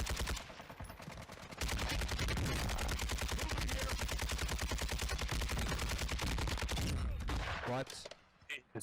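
Sustained automatic gunfire in Warzone 2 hammers in a dense, rapid stream for several seconds after a brief lead-in, loud and close, then breaks off abruptly near the end.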